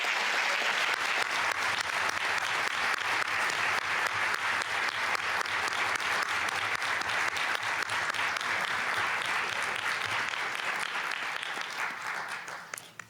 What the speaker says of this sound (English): please join me in one more big round of applause for them